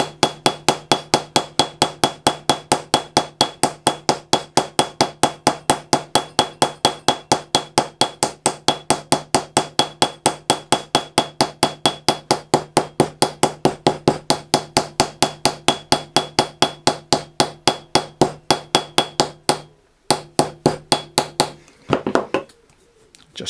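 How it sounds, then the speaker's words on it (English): A ball peen hammer strikes copper saddlery rivets in a fast, steady run of sharp metallic taps, dozens of evenly spaced blows close up, breaking into a few scattered hits at the end. "get a ball peen hammer and just round it a bit more"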